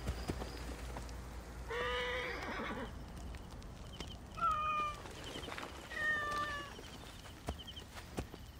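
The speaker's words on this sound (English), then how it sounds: "Hello, are you an Egyptian meow?" An Egyptian Mau cat meows in Assassin's Creed Origins, a few short close mews heard over ambient game background, with horse hooves and whinnies mixed in nearby.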